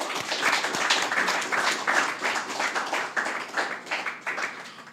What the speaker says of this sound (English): let us give Dr. Gill another round of applause